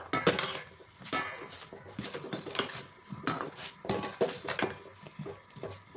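Soya chunks are stirred in boiling water in a pot, with a metal spoon clanking and scraping against the pot sides in repeated, close, uneven strokes, no speech.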